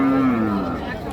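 A Sahiwal cow at a cattle market gives a single close, drawn-out low moo, with a voice talking over it and a busy crowd behind.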